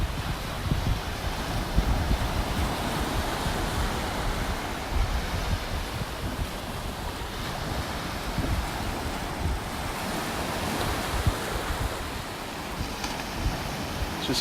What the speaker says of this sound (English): I love the sound of these waves here.